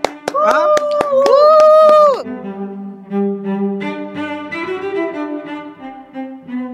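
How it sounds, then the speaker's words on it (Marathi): A quick run of about half a dozen sharp hand claps at a 10-month-old baby's birthday celebration rings over a loud high tone, then gives way to sustained voices and music. "टाळ्या"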